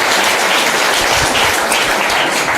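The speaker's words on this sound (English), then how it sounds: "Please give a round of applause to Bradley Bailey" An audience applauds at an outdoor bench unveiling honouring Harry Belafonte, a dense, loud, continuous wash of clapping with no voices.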